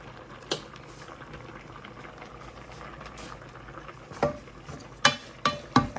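Spaghetti boils in a pot on the stove, a soft, steady bubbling hiss broken by sharper pops and clinks that grow more frequent toward the end, with no talk.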